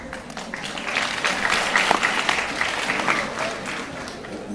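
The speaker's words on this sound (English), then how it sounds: "The applause is for Latvia" A roomful of people at a convention claps steadily, a dense, fairly loud patter of many hands that swells slightly in the middle and carries on evenly throughout.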